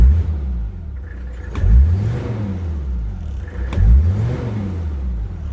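A Mercedes-Benz OM617 diesel engine in a W123 with its ALDA deleted free-revs twice, two sharp rising roars over a steady clattering idle, close and loud, no voices.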